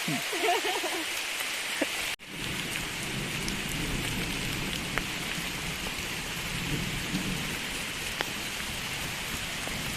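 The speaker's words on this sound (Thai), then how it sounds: "ฝนตกฮะ" Steady rain pours down in a dense, even hiss over a garden setting, with a brief break near the start and faint low rumbles that suggest distant thunder.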